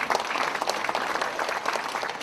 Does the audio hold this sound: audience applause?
yes